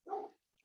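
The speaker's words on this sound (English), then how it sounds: "sorry about the dog" A single short dog bark, close and fairly soft, in an otherwise quiet room.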